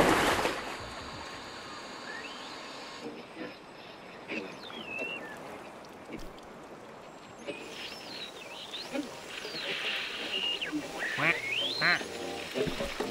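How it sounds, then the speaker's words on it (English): Cartoonish duck quacks from a video game, several calls scattered through the stretch over gentle background music and water-like ambience, moderately loud and close. "I can quack."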